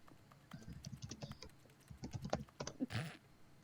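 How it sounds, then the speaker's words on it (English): Someone types on a computer keyboard in quick, uneven bursts of close, crisp key clicks, with brief pauses between runs and a heavier clack near the end. "God, I type loud as shit."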